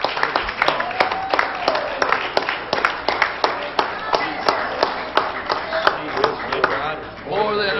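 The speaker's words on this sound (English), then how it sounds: "give Him a hand clap of praise" Pentecostal church congregation clapping hands in praise during a worship service, a steady run of sharp claps in rhythm with voices singing and calling out over them.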